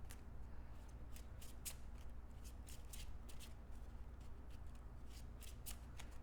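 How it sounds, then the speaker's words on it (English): Playing cards being shuffled during a tabletop card game, a rapid series of crisp riffling bursts repeating close up, with no talking. "And then I will shuffle all these up."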